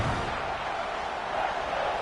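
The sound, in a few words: football stadium crowd cheering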